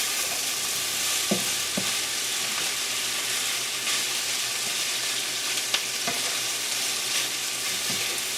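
Onions frying and cooking down in a pan beside kielbasa, a continuous close sizzle with occasional spoon clicks and stirring scrapes, no voices.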